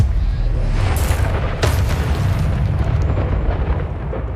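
A Confringo fire spell bursting in Hogwarts Legacy, one sharp explosive crack followed by a rumbling, dense roar of debris and noise that stays loud throughout.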